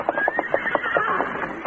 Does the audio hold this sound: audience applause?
no